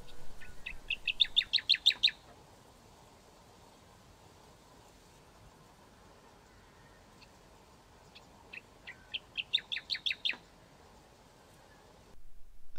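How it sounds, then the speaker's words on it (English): Two bursts of a striated grassbird's rapid, repeated call notes, several seconds apart, rising over faint steady background hiss outdoors in paddy field and grassland in Thailand. "The main target here, striated grass bird."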